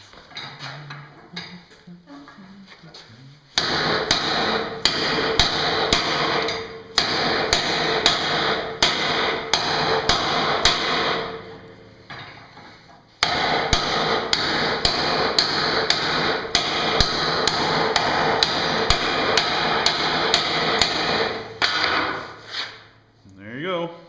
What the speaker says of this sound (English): bang the top while you spin the bar around, and it puts a perfect shoulder, perfect tenon on it